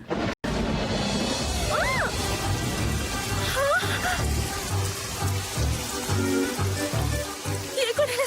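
Rain falling steadily in a dubbed Odia film scene, a constant dense hiss under music and other sound effects, with faint voices and musical tones breaking through.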